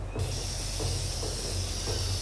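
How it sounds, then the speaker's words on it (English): A spray can in the video game Infamous: Second Son gives a continuous hissing spray throughout, steady and fairly close, over a low rumbling background. "Spray can."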